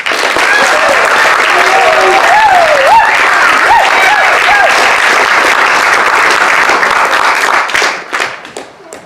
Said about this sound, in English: could you just give a big round of applause for them in the back?